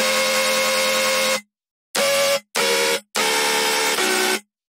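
Isolated Serum synth lead bass from an electronic track: loud, buzzy, harmonically dense tones in four bursts, one long held note then three shorter stabs separated by abrupt silences.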